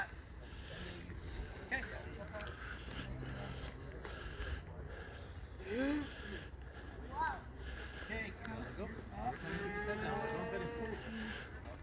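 Live cattle low and moo in a youth roping pen, a few moderately distant calls rising over steady background activity and murmur, with no clear talk up front.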